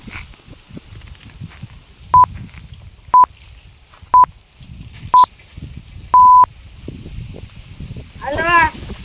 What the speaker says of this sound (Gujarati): હાલો હું પંકજભાઈને ફોન કરી દઉં.